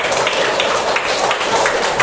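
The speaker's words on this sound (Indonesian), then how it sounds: "Tepuk tangan yang jawab betul." A classroom of students claps for a classmate's correct answer. The dense, steady applause fills the whole stretch, loud and close, with no talk over it.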